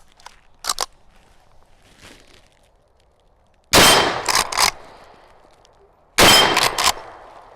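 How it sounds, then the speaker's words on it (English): A Browning 1886 rifle in 45-70 fires at metal targets downrange. Two sharp, loud shots are each followed by quick ringing pings from the steel, with faint mechanical clicks in the quiet before them. "Let's shoot it on the metal targets down there."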